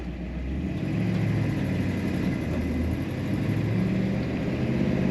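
A 1957 Ford Fairlane 500 Club Victoria engine catches and settles into a smooth, steady idle, a low rumbling drone that holds close and even with slight swells in revs.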